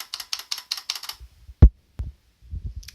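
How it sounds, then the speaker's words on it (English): Clicky Futaba switches on a Codegen CG-101F keyboard: a quick run of rapid key clicks, then a few sharp, louder enter-key strikes with soft thuds, close and alone. "the sound of the enter is kinda nice"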